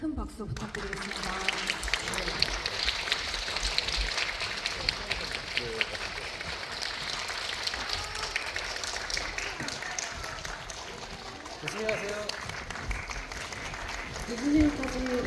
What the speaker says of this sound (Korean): 퇴장하실 때까지 큰 박수 부탁드리겠습니다.